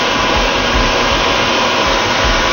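A crystal cutting wheel grinds material from a crystal baptismal font, making a steady, loud whirring hiss with a low rumble that holds without a break.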